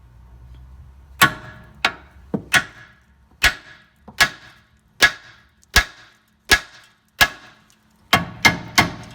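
Sharp metallic hammer blows ring out on an Audi TT Mk1 suspension track arm, one at a time, about a dozen strikes at irregular intervals, ending in a quick cluster of three.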